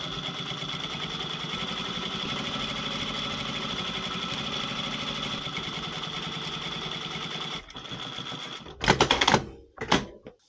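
A sewing machine runs steadily for about seven seconds, stitching a seam into a waterproof softshell jacket near the middle of its zipper, then stops and gives a few louder, shorter bursts of stitching.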